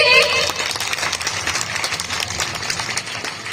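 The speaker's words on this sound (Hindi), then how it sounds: "सब लोग क्लैपिंग कीजिए।" Applause from an audience at a school function in India, a dense, steady patter of many hands clapping that runs the whole time, with a voice briefly audible at the start.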